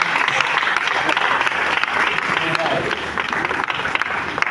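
An audience applauds US Consul Joseph Kruzich at his farewell party, a loud continuous crowd clapping that stays dense and even throughout.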